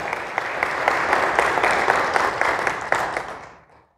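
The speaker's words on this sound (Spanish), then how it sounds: "Dale un aplauso al Señor," Church congregation applauding together during a sermon, a steady dense wash of clapping that swells with scattered sharp claps, then thins and fades out near the end.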